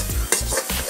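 Fried rice with shrimp, egg and vegetables being stirred in a home wok, with steady sizzling and liquid cooking off, short scraping strokes of the utensil in a close, rhythmic pattern.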